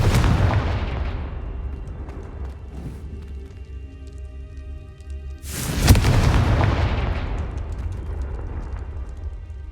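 Fiery blasts from the Confringo explosion spell in a Hogwarts video game, a loud booming burst at the start decaying into rumble, then a second sharp explosive boom midway with a long roaring tail, over a low ambient game background.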